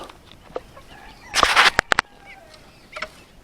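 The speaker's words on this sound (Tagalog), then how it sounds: "Ito yung mga sisiw natin sa loob." Chickens and chicks on a free range chicken farm in Bauang, La Union: soft clucks and peeps, then a loud flurry of squawking with a few sharp calls, settling back to quiet chirps.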